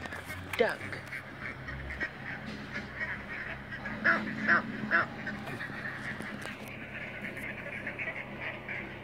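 Ducks quacking on a farm: a cluster of nasal quacks and honks near the middle, with a sharp call at the start, set against outdoor background noise.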